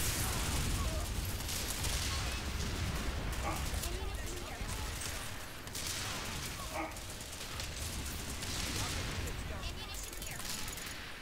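Dense gunfire rolls through a Planetside 2 battle, with overlapping bursts and shots over a constant noisy din that never lets up. Voices come and go underneath.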